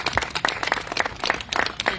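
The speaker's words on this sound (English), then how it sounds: "A big round of applause for them if we can." Brief scattered hand clapping from a small crowd at an Armed Forces Day rally, uneven bursts of claps fairly close by.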